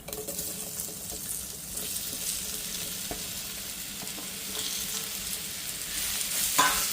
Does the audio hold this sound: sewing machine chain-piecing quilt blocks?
no